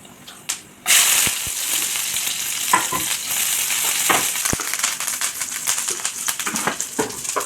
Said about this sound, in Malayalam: കുറച്ച് എണ്ണ ഒഴിച്ചു വേപ്പിലിട്ട് കൊടുത്തു മീൻ പെറുക്കി പെറുക്കി ഇട്ട് കൊടുത്തിട്ടുണ്ട്